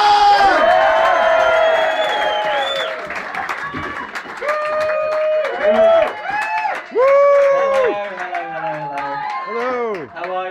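A stand-up comedy crowd at Ryans Bar in London cheers, whoops and applauds as comedian Ross Wilson is welcomed on stage, loud and sustained, with hollering voices rising and falling over steady clapping.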